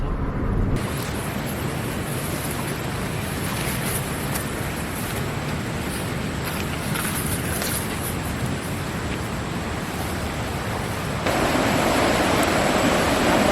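A river stream rushing steadily at a fishing and barbecue picnic spot, a loud, unbroken broadband wash that swells a little louder near the end, with no talking.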